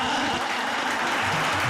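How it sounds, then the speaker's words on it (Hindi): Audience applause for Zeeshan Khan after he is announced first-place winner at a televised Urdu program, a dense steady clapping that fills the short moment without speech. "ज़ीशान खान के लिए जोरदार तालियां।"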